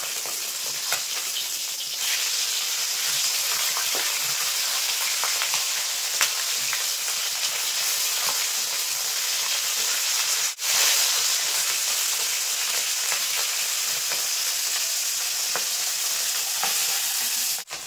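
Turned fish keep frying in mustard oil with an even, hissing sizzle and scattered pops, close and steady throughout, briefly dipping once, with no voices.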